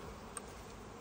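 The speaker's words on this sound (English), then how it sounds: "Look at those bees, how active they are." Honeybees buzzing at a hive entrance in an apiary on an evening walk, a steady, even drone with no pauses, close and low in level.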